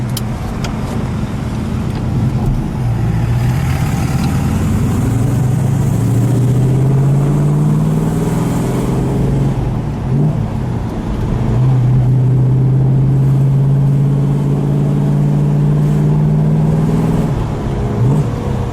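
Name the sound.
muscle car engine revving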